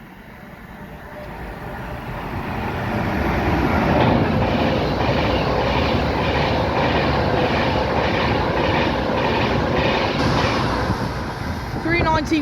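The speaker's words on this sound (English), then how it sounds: "passing through now is a is a Pendolino going from Birmingham New Street to London Euston" A Pendolino express train on the West Coast Main Line at Rugby, running from Birmingham New Street to London Euston, rushes past close by with a loud sustained roar and rhythmic clickety-clack of wheels building then holding.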